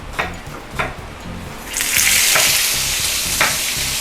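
Vegetables frying in oil in a home kitchen pan: soft clatter and stirring at first, then a sudden loud, steady hiss as they hit the oil, with occasional utensil knocks.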